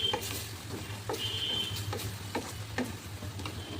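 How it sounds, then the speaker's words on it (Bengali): Spices with turmeric and Kashmiri chili powder are stirred in hot oil in a frying pan, giving a steady low sizzle broken by scattered scraping and clicking strokes of the spoon. "এবার এটাকে ভালো করে মিশিয়ে নেবো।"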